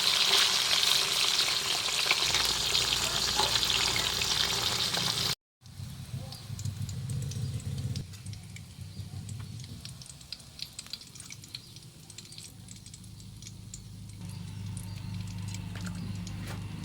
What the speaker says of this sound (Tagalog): Gisa tayo si buwis bawang.